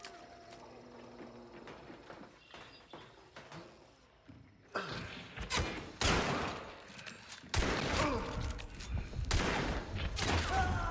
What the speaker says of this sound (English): Go ahead and fire a couple bullets there.